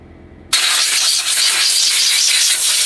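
Compressed air blasts through the carburetor of a 1968 Johnson 9.5 HP outboard motor, starting abruptly as a loud, close, continuous hiss that holds steady for over two seconds with no talking.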